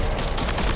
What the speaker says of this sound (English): The turret's working on its own.